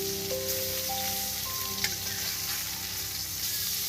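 Masala chicken pieces sizzle steadily in hot spiced oil, a dense close crackle that runs throughout, with a brief clatter as the pieces are flipped in the pan.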